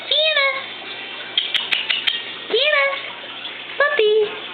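A cat meows several times, rising and falling calls spaced a second or so apart, over running water and a few clicks.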